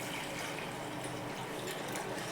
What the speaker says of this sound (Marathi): कढई ठेवली मी, पाणी टाकते.